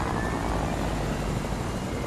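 A helicopter in the Fortnite video game, a steady dense whirring rotor and engine drone filling the clip at constant loudness, with no voices over it.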